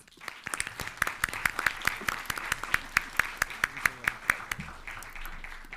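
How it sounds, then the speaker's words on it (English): A crowd at a school board meeting applauds the board, a steady burst of many hands clapping at close range, with a few sharper claps standing out before it thins near the end. "Let's give our awesome school board a round of applause."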